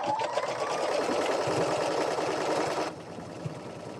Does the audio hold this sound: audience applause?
no